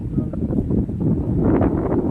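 Wind blowing across a park beside a bridge, a steady low rumble of gusts buffeting the microphone throughout, with a slight rise toward the end.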